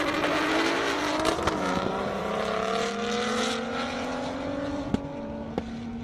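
A BMW 335i race car speeds down an airstrip, its engine holding a loud, sustained drone that climbs in pitch through the gears, with a couple of sharp clicks along the way.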